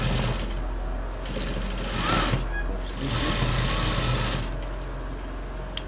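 A sewing machine top stitching the side pocket of a pair of trousers: a steady, close mechanical whir that speeds and slows over several short stitching runs, ending with a small click.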